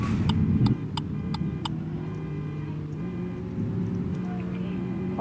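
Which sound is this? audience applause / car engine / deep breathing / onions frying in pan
car engine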